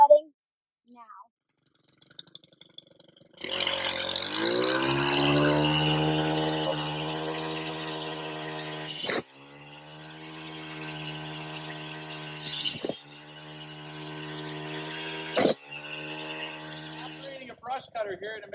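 A gas brushcutter with a blade, run in a controlled setting to show kickback, revs to a loud sustained whine with brief sharp bursts as the blade jolts, then idles down; a person speaks over part of it.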